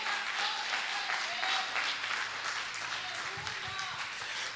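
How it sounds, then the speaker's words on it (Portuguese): Church congregation applauding together, a steady, dense wash of clapping that holds through the whole stretch, with voices mixed in underneath. "Pode aplaudir ao Senhor,"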